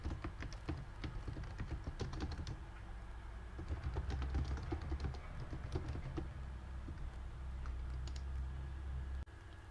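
Quick, irregular keystrokes tap on a computer keyboard as a forum topic title is typed, close and clear, in bursts of clicks with short pauses, no speech.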